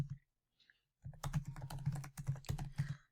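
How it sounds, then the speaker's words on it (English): Close typing on a computer keyboard, a quick irregular run of soft clicking keystrokes after a brief quiet pause, with no talking. "I'm gonna type it as I say it"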